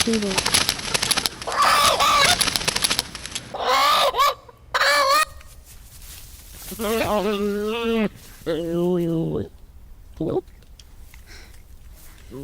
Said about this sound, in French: c'est clairement le prédateur qui est rentré dans le poulailler et qui a mangé la poule